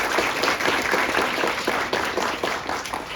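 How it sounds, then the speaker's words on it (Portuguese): Congregation applauding at the close of a Catholic Mass, a steady dense wash of many hands clapping, filling the space continuously with slight swells throughout. "agradecimento especial ao Padre Cláudio, mais uma vez, vamos aplaudindo?"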